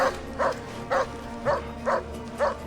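Dog barking in the video game Assassin's Creed Origins: six evenly spaced barks about half a second apart, moderately loud and clear over a steady low ambient background.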